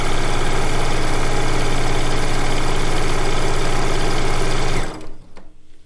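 A sewing machine runs steadily while piecing a strip onto a blue and white quilt top, a loud, even mechanical hum that holds for about five seconds and then stops abruptly, leaving quiet room noise.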